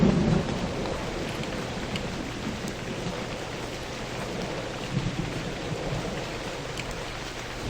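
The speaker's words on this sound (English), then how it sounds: "The rain effect's quite nice in this game." Rain and thunder in the survival game Novus Inceptio: steady, dense rainfall hisses throughout while low thunder rumbles at the start and again briefly later, at moderate volume, with no voices.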